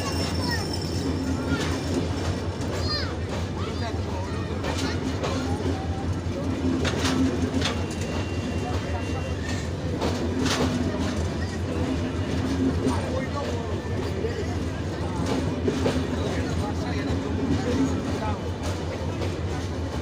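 The Banalata Express passenger train rumbles steadily past with rail clatter and a few sharp clanks, while pigeons coo nearby and people talk in the background throughout.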